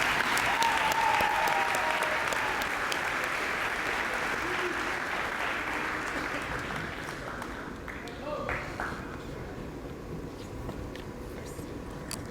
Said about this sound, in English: we all need to give you both a round of applause